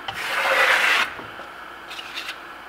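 A steel trowel drags across wet marmorino Venetian plaster in a close, loud, one-second rasping sweep, followed by quieter scraping touches.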